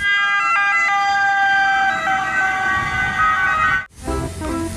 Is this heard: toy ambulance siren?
yes